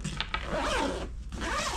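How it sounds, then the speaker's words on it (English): A zipper on a Kemi Moto motorcycle pet carrier bag being pulled along, a close, scratchy zipping run with a couple of quick tugs at the start, heard alone. "if you zip this down"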